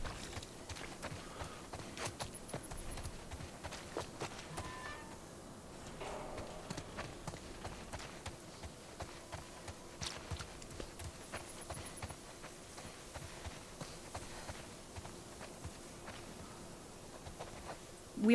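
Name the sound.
boar running in the video game The Last of Us Part II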